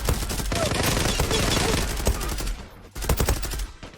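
Automatic gunfire in the shooter game Zula rattles in fast, dense strings of shots, loud and near, with a short break before another burst resumes.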